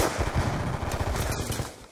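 Rapid automatic gunfire and shots from the video game Call of Duty: Black Ops 2, a dense, loud, continuous burst of repeated reports that fades slightly at the end.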